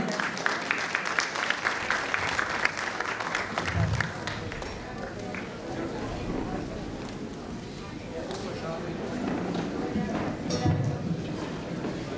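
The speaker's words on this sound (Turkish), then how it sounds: "Alkışlarınızla." A concert audience at a cultural association event in Fethiye applauds a performer invited to the stage, steady dense clapping at moderate distance with a few louder bursts, fading slightly toward the end.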